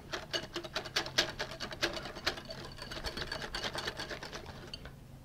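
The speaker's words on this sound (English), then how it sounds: "whisk everything together." Mayonnaise and buttermilk whisked together for homemade ranch dressing, a quick, steady rhythmic clatter of a whisk against the bowl, close and continuous for several seconds with no talking.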